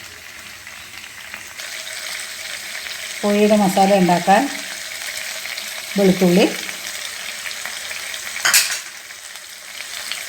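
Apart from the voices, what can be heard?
frying in oil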